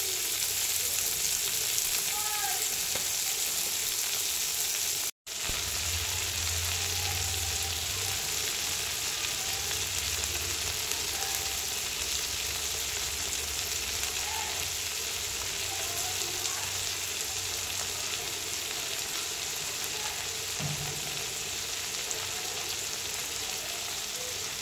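Shrimp sizzling in a pan alongside Malabar spinach for a Bengali chingri pui shak charchori, a steady close, loud hiss of frying oil that holds for the whole stretch apart from a brief dropout early on.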